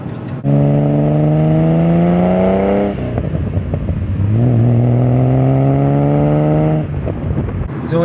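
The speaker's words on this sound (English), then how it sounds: "I'm always blipping the throttle, and then just listening to that noise." Porsche 930 911 Carrera with a 3-litre engine revving loudly and close up, its throttle blipped in two long rising pulls, each dropping back to a steady idle between them.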